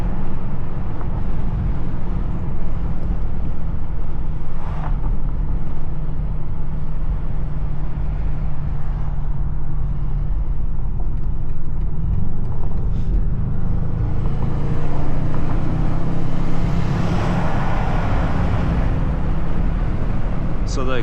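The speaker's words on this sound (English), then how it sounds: "even though it's an M5, they really toned it down on these new models, 2025 and up, on the G90." A 2025 BMW M5 G90 drives along with a subdued, toned-down exhaust note and steady road noise, heard from inside the car while someone talks over it.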